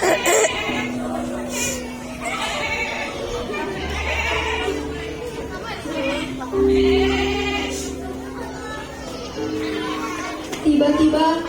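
Sheep bleating in a church Sunday school Christmas play, voiced by children imitating the animals with drawn-out wavering calls, heard alongside a narrator's speech and light room noise.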